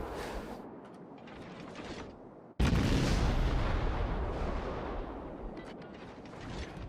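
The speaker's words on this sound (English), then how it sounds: "so I start taking some shots on him to force him to defensive" Heavy warship main-battery guns firing in the World of Warships naval battle game, aboard the Soviet destroyer Kiev: a sudden loud booming salvo midway that rolls off into a long rumbling decay over mechanical creaks.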